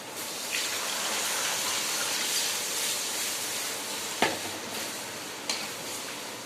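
Tamarind extract poured into a pan of sautéed onion and tomato for urundai kuzhambu, a steady close sizzle and stirring hiss with a few sharp scraping clicks near the end.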